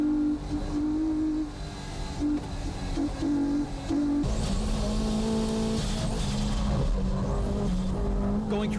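Race cars including a Honda S2000, an NSX and a Nissan S15 lap the Fuji circuit, engines droning loudly and continuously with shifting pitch as they push through the corners.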